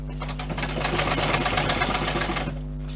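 A sewing machine runs steadily, stitching a simple bushcraft water bottle and utility pouch, its needle hammering in a fast even rhythm over a low motor hum, loud and close for about three seconds before easing off.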